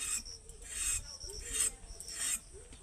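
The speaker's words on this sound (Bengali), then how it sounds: "পটলটাকে এরকম একটু উপরের ছালটা তুলে দেবো এইরকমভাবে বটিতে একটু ঘষে ঘষে তুলে দেবো" Pointed gourd skin is scraped off against a boti blade in a kitchen, a close, quiet, rhythmic rasping with about four strokes and brief pauses between them.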